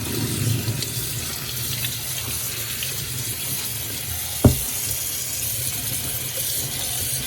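Tap water runs steadily into a kitchen sink while food is rinsed for homemade chilli, a continuous hiss with one brief clunk partway through, no voices.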